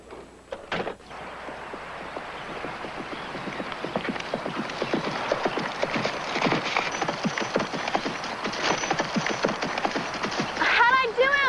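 Horse hooves clip-clop steadily as the animal is ridden, a continuous mid-level rhythm of hoof falls that runs for most of the stretch, with a brief voice near the end.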